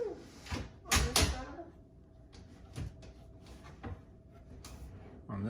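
A drawer slid into a kitchen base cabinet during a renovation, giving a few sharp wooden knocks and thuds followed by softer clunks of a soft-close slide, close by, with people talking between the impacts.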